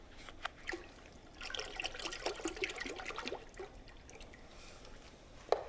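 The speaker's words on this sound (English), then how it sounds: "next, 8 cups of milk and 4 cups of cream." Milk and cream poured into a pot of softened onions and sherry for lobster corn chowder: a few seconds of irregular liquid glugging and splashing, fairly quiet, ending with a sharp clank.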